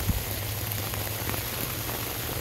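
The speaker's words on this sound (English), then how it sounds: "Like a snow rain mix, but snow nonetheless." Mixed snow and rain falling during an outdoor ice storm, a steady fine hiss of patter on surfaces with a low continuous hum underneath, even and constant throughout with no voices.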